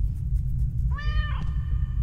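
A single cat meow after being petted in a video game, clear and fairly close, rising over a steady low rumble of background sound.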